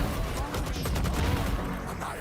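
Dense, continuous rapid gunfire from a Valorant match, loud and unbroken throughout, with a voice talking faintly underneath.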